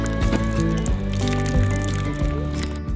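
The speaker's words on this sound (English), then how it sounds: "I hope I've washed away all those disgusting germs." Hands being washed at the small sink of a Scamp camper trailer, with steady running water and squishy, sloshing rubs and splashes, close and continuous without talk.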